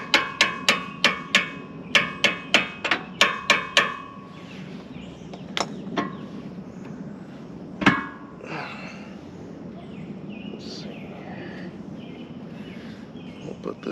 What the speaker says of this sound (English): I'll use the other kickstarter as a hammer.